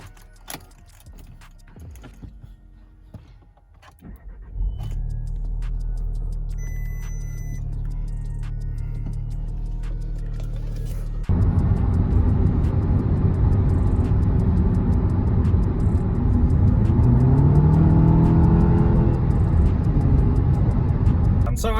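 A 2014 Audi S3 with over 130,000 km cranks and fires up, settling into a steady, loud idle that swells further partway through, with a brief murmur of talk at the start.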